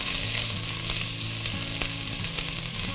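Onions for cauliflower soup fry over slightly lowered heat in a pot with a steady close sizzle, while a spoon stirs them with soft scraping and occasional light taps against the pot.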